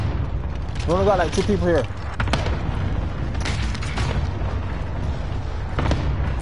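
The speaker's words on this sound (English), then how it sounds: "Enemy cluster strike incoming." Cluster strike explosions in a video game rumble as repeated low booms and bursts through the scene, while a player talks over them.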